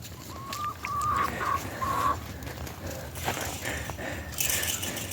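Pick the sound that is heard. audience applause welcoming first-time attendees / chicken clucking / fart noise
chicken clucking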